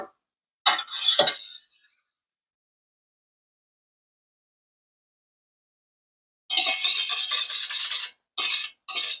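Wet and dry chocolate cake batter ingredients scraped and rasped together in a bowl, a short burst of rubbing near the start, then a pause before a longer stretch of gritty mixing and two quick final strokes.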